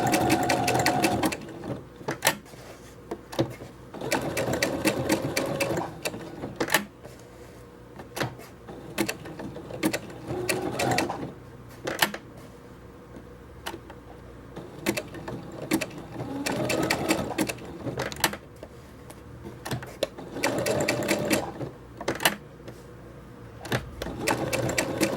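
A sewing machine stitches a buttonhole around a small appliqué patch in fast rhythmic bursts of needle clatter, separated by short pauses where the needle turns, close and steady.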